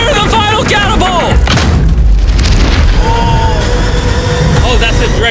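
A catapult shot striking a yacht lands as a heavy booming impact amid loud, excited shouting, with the deep rumble of the hit rolling under the voices.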